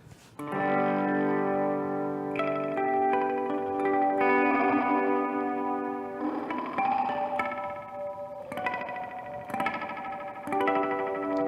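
Electric guitar chords ring out through heavy T-Rex effect pedals, swirling with chorus, echo and grit, sustained and layered, with no voices.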